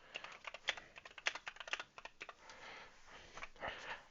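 Typing on a computer keyboard: a quick, irregular patter of close key clicks, briefly slowing before resuming, with no talking.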